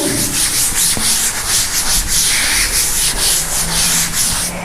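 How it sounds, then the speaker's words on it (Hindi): A drawing on a board is rubbed out with a duster, making a loud, close, continuous scrubbing and rubbing sound in quick back-and-forth strokes throughout, with no speech. "इसको रब कर देती हूँ मैं"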